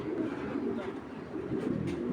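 A 2022-bred racing pigeon gives a soft, low, rolling coo, faint and continuous against quiet room noise.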